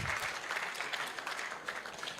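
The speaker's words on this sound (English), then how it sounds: "Please, another round of applause for the guest speaker." A hall audience at an aviation university's matriculation ceremony and lecture gives the guest speaker a round of applause, a dense, even wash of clapping from many hands.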